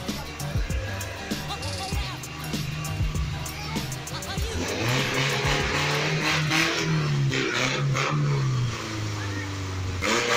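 A Lada 2105 fitted with a high-compression Toyota 1NZ-FE engine drives off and revs hard, the engine note rising and falling loudly and close through the whole stretch, with voices talking over it.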